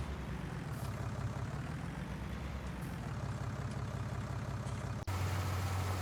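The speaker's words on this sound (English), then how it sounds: "Okay, planter's still rolling." Tractor engine pulling a planter in Farming Simulator 20, a steady low diesel drone running evenly, with a brief dip and a shift in tone near the end, no speech.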